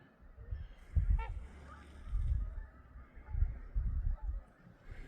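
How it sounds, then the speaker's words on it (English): A family of swans on a pond gives low honking calls in several short bursts, moderately near, over quiet outdoor ambience. "There are the geese, or not the geese, the swans, the whole family."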